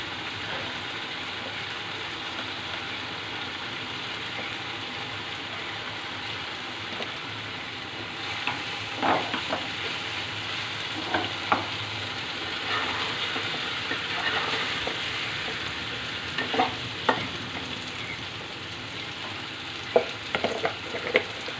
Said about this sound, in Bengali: আমার আলুর সাথে মাছটা আর একটু কষানো হোক